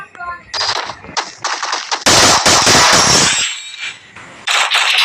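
Bursts of rapid automatic gunfire from the Woodpecker rifle in the Free Fire mobile game, loud and close, several strings of shots broken by short pauses.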